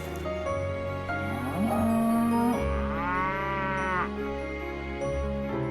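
Cattle lowing in a farm pen, several long deep moos that rise and fall one after another, close and loud over a steady rumble of farmyard background.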